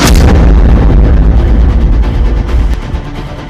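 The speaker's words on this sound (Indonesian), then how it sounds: "tembakan kedua HRMS Everston mengenai bagian tengah RI Macan Tutul, sehingga terjadi ledakan" Naval gunfire from the HRMS Everston strikes the middle of the RI Macan Tutul, setting off an explosion: a massive booming blast with a heavy low rumble that fills the space and slowly fades.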